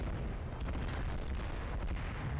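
Artillery fire from the World in Conflict battlefield, a constant dense low rumble of distant shelling and booms rolling on without a break for the whole stretch, no voices over it.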